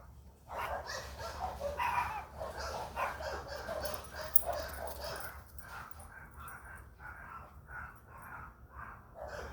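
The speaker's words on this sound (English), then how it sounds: "What are you barking at, little guy?" A small dog barks and yips in short bursts toward a lake, with whiny whimpering mixed in over steady low background noise.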